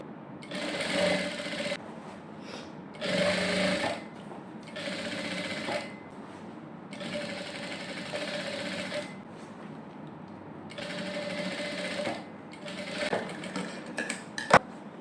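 Sewing machine stitching a sleeve onto a princess cut blouse, running in repeated bursts of rapid mechanical clatter separated by short pauses, close and fairly quiet, with a sharp click near the end.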